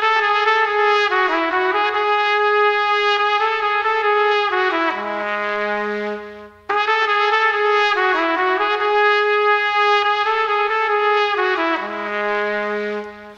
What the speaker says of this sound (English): We also created a chorus, which sounds like this. We used the trumpet.